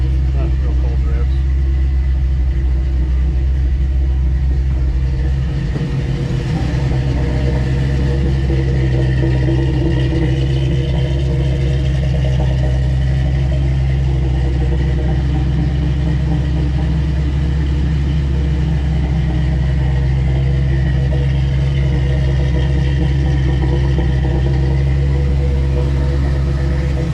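A 350 V8 engine in a Toyota Land Cruiser with fuel issues idles with a steady, deep rumble throughout, briefly roughening once early on, while a person talks at times over it.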